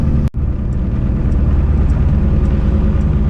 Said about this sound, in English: So I'm gonna let the truck warm up a little bit